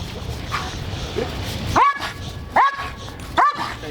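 A protection dog barks three times in sharp, loud single barks about a second apart, with faint background noise between them.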